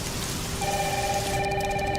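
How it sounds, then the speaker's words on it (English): Heavy rain pouring down in a video game trailer, a dense steady hiss, with a high tonal ringing tone rising in over it partway through, loud and continuous. "It's really coming down hard."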